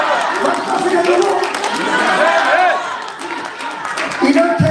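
Crowd at a party convention event cheering and clapping, a broad roar of voices and applause mixed together, loud and sustained throughout.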